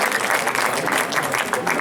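A crowd at an international Urdu mushaira poetry gathering breaks into steady, close applause, many hands clapping in a continuous patter without speech over it.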